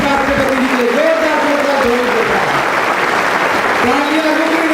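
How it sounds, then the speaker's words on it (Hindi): A standing audience applauds to welcome the Vice President at an Indian youth event, a steady wash of clapping throughout, while a loud tonal voice or music line rises and falls on top of it. "जोरदार खड़े होकर तालियां एक बार, स्वागत, अभिनंदन माननीय उपराष्ट्रपति जी के लिए"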